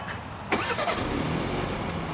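A 2021 BMW 530i xDrive engine starting from a remote starter: a short crank burst, then the engine catches and settles into a steady, fairly close idle.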